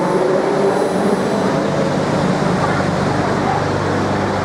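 Loud, steady rumble and hiss of a Bangkok metro train running underground, heard from inside the carriage as one continuous roar with no talk over it.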